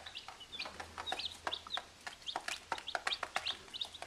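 Chickens peck and cluck close by, giving a quick run of sharp taps and soft clucks over a low background hum.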